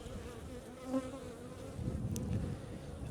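Honey bees buzz steadily inside an open beehive during an inspection, a close, low droning hum with soft rustling underneath.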